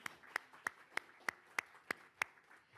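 A single pair of hands claps slowly and steadily, eight sharp claps in an even rhythm, fairly faint with no other sound around.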